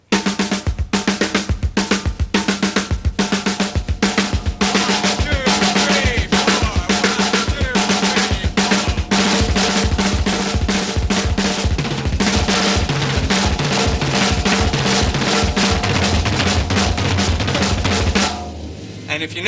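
A drum kit plays rapid 16th-note patterns grouped in sixes and fours, dense continuous hits spread across drums and cymbals, loud and close, with a brief drop near the end.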